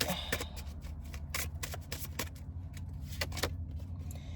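Tarot cards being shuffled by hand, a run of quick crisp riffles and flicks close up over a low steady background hum, with no speech.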